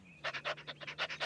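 A cartoon dog pants quickly and close up, about nine breathy huffs in a fast, even rhythm over a low steady hum.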